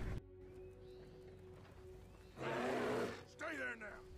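A horse neighs in the video game Starfield, a loud whinny with a second shorter call after it, over a steady tonal game background with some noise.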